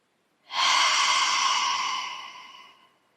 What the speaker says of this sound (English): try to take time with your breathing